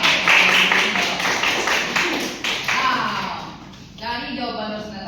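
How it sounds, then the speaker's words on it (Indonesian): A classroom of students claps for a classmate, a dense burst of hand claps that fades and then picks up again, mixed with children's voices. "Berikan aplaus untuk Rosna."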